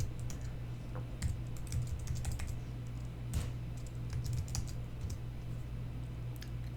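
Typing on a computer keyboard, a quick irregular run of close key clicks and taps over a low steady background hum, with no speech.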